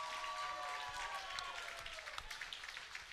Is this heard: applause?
yes